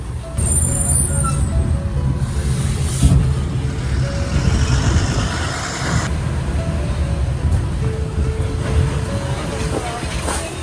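A state transport bus engine rumbles nearby as it pulls into a depot, with hisses of air brakes and faint beeps over steady road noise.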